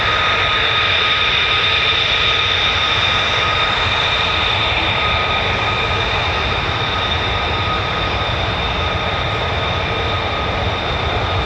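An F-15 or F-35 fighter jet of the 48th Fighter Wing crossing the runway at RAF Lakenheath, a steady loud engine roar with a high whine that holds throughout, with no talk.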